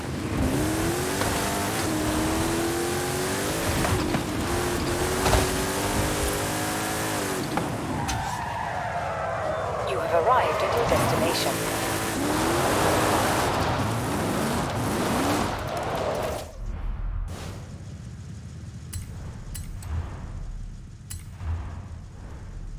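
A BMW driving in the video game Forza Horizon 5, its engine revving up and down with tires skidding and squealing through turns, a steady loud motor sound without speech.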